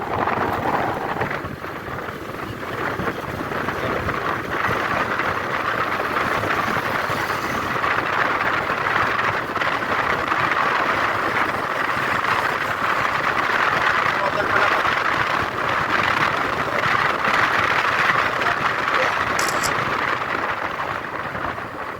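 Rusi Sparkle 150i scooter, a 150cc engine, on a test ride: a steady, continuous engine drone mixed with rushing wind across the whole stretch, fairly loud and even.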